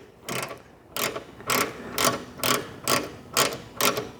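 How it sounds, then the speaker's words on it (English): Ratchet turned by hand to lift a table saw caster, eight evenly spaced sharp clicks roughly half a second apart, close and clear with no talk. "you click this little button right there, and that makes the ratchet go the other way. And as you turn it,"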